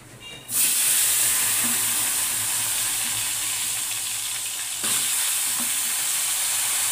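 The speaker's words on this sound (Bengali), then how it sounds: "এটা ভালো করে একটু সাঁতরিয়ে নেবো, তারপরে মশলা দিয়ে কষিয়ে নেবো" Fish, taro stolons and potatoes with black cumin fry in a pan, a loud, steady sizzle that bursts in at the start and continues with brief stirring scrapes, with no talk.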